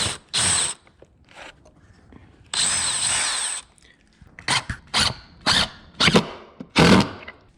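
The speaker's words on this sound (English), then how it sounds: "we're gonna go ahead and start drilling and screwing" A power drill drives screws into the frame of a Pella 150 vinyl replacement window in bursts: short whirring runs, a longer grinding spell, then a string of quick spurts with squealing pauses in between.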